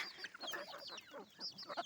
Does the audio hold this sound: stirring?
no